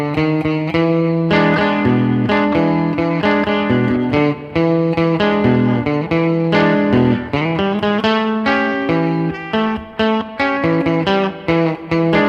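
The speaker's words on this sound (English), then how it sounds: "we're going to call this next piece the third verse" Loud, dense electric guitar with distortion and effects plays the third verse of a surf song, with rapid driving picked notes and chords sounding continuously without a break.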